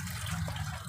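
Water draining off raw chicken in a kitchen before seasoning, a steady close splashing trickle lasting about a second.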